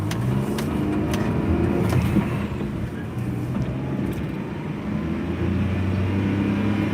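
A small Japanese kei truck drives along with its engine humming and rising as it accelerates, a steady close-up motor drone throughout with no talking.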